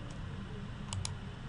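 Two quick, faint computer mouse clicks close together over a quiet background hum.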